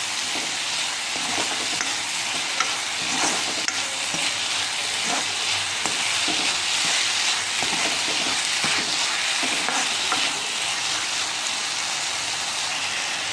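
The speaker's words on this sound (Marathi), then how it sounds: "आता चांगलं सर्व एकत्रित मिक्स करून घ्यायचं आहे" Wild vegetable gaboli sizzles and fries in a pan while being stirred, a steady close crackle with scraping stir strokes, no talking.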